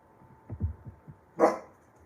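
A single short dog bark rings out near the end, preceded by faint low thumps and soft indoor background noise.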